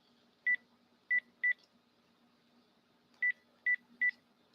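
Telephone keypad tones ring out as a number is dialed: six short, clear electronic beeps in two bursts of three, with a quiet pause between the groups and no talking.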